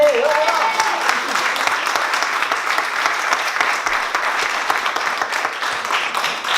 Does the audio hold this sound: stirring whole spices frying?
no